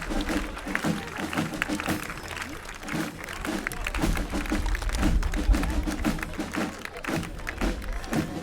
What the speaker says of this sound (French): mesdames et messieurs, on peut les applaudir bien fort